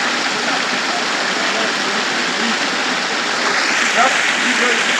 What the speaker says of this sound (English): You can see, you can hear the noise of the water.